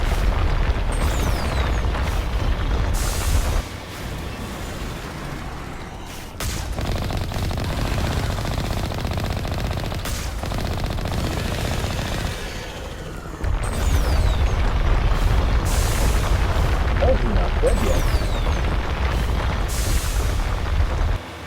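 Gunfire and explosions in the video game Mass Effect, loud repeated booming bursts and rapid shots in several dense stretches with short quieter gaps between them.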